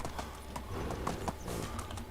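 Donkey hooves in Medieval Dynasty, a steady clip-clop of hoofbeats at a walking pace, close and fairly loud over a low ambient bed, with no voices.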